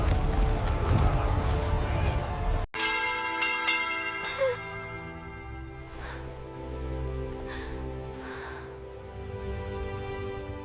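A large bell rings out with long, shimmering resonant tones that hang and decay, struck again a few times while the hum lingers.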